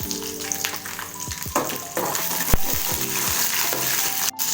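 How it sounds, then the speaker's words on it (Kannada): Garlic, ginger and chillies sizzle in hot oil, with a spatula scraping and clinking against the pan several times. "ಇದನ್ನು ಕೂಡ ಎಣ್ಣೆಗೆ ಹಾಕೊಂಡು ಚೆನ್ನಾಗಿ ಫ್ರೈ ಮಾಡ್ಕೋಬೇಕು"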